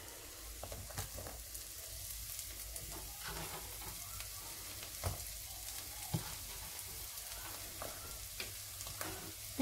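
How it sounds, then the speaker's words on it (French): Steady sizzling of onion frying in a saucepan, a soft continuous crackle with occasional faint clicks and stirring sounds, no voices. "mon oignon que je vais mettre à cuire"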